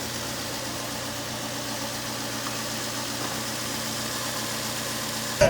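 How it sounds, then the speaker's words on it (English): A Nissan 350GT (Infiniti G35) engine idles steadily, a continuous low rumble with a faint vibration that holds evenly throughout, heard close with no talking. "The car sounds really different."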